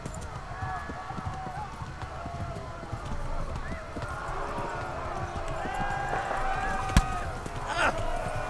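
A horse gallops in the medieval game Kingdom Come: Deliverance with rhythmic clip-clop hoofbeats and occasional whinnies, beneath continuous talking from a player.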